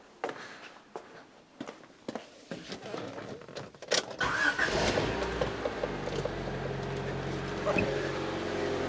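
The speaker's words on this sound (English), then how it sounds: "I'm going to fire this engine up" A Rover 216i's engine is started: a few clicks and handling knocks come first, then the engine catches and settles into a steady, low idle hum up close.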